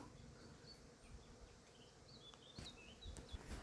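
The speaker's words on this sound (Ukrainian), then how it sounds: "Якщо прислухатися гул, таке враження, що рій прилетів" Bees hum in a steady swarm-like drone around flowering acacia bushes, a continuous buzz with occasional nearer passes, faint and outdoors with no talking.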